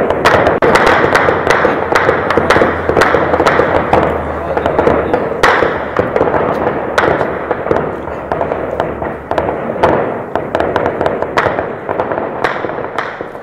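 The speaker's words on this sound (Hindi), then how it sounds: "किस तरह से लगातार आवाजें एनकाउंटर की इस वक्त भी आ रही है" Sharp cracks and bangs of gunfire go off repeatedly at irregular intervals over a constant rumbling background, loud and echoing outdoors, during an armed encounter between security forces and militants in Shopian, Jammu and Kashmir.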